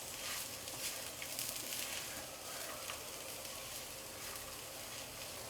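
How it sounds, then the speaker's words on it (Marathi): Grated coconut roasting in a pan with spices for a masala, giving a steady soft sizzle with light scraping textures throughout, moderately quiet and without any voices. "आता आपण यामध्ये थोडंसं खोबरं घालून घेणार आहोत. याला पण भाजून घ्यायचं."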